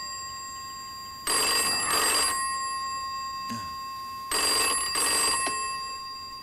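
A telephone rings in two doubled bursts of bright electronic trilling, loud and close, with a brief knock between them and quiet room tone in the gaps.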